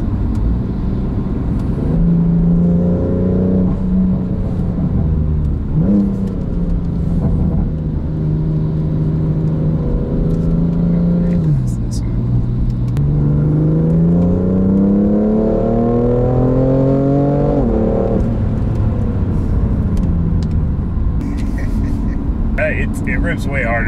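A BMW M3 accelerates hard in comfort mode, engine note climbing through rising harmonic sweeps with gear changes, loud and close from inside the cabin, with people talking over it.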